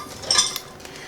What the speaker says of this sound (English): baby's gonna help me do dishes